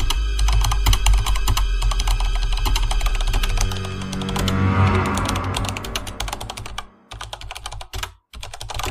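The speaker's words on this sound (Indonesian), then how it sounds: "suara ketikan keyboard itu pun terdengar sangat jelas di telingaku" Fast, dense clatter of typing on a computer keyboard, close and loud, with rapid key strikes running steadily throughout and a few brief pauses near the end; no voices.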